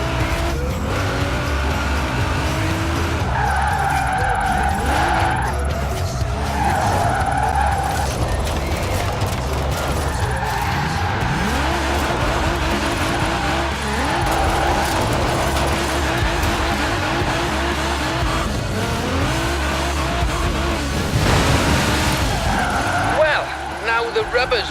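A car drifts in Forza Horizon 4, its engine droning steadily while tyres squeal and skid in repeated long slides, loud and continuous, with someone talking over the top.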